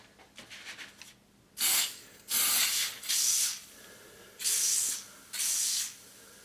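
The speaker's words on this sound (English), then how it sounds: "So I'm going to spray it right on." Clear coat sprays from an aerosol can in five loud hissing bursts of about half a second to a second each, close by, with short quiet gaps and faint handling noise before the first burst.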